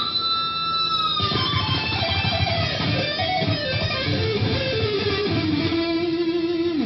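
An isolated electric guitar solo from a Megadeth track plays alone, with sustained bending notes and melodic runs over a continuous, fairly loud tone.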